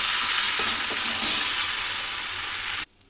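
Moong dal and broken wheat are stir-fried in a hot pan, a loud, steady close-up frying hiss with faint stirring scrapes that cuts off abruptly near the end.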